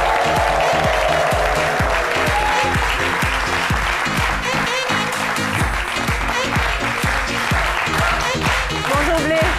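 A studio audience on a French-language midday TV talk show applauds the guest of the day, a steady wash of clapping layered over loud, rhythmic music with a thumping beat throughout.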